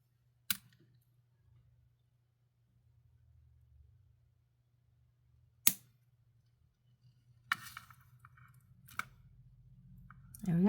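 Cutters snip through beading wire for a necklace or bracelet, giving a few sharp, isolated clicks spaced seconds apart in a quiet room, with a soft hum underneath and a busier cluster of handling noise toward the end.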